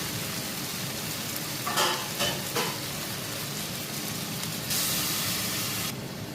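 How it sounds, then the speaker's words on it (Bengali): Water poured into a hot pan of khichuri mixture, with short hissing splashes and then a steady rush of steam and sizzle before it drops back to a low simmer. "এবার দিয়ে দেবো আমি এতে জল।"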